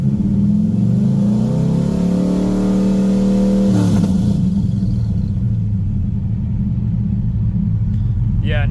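A third-generation Chevrolet Camaro with an LS engine swap idles with a steady low rumble, and a brief rev rises and falls before settling back to idle, close and loud throughout.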